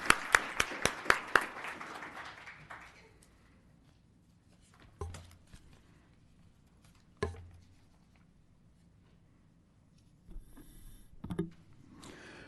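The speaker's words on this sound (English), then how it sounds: "We'll give him a round of applause" A short burst of clapping from a small group at a town council meeting, fading out within a couple of seconds, followed by quiet room noise and scattered knocks.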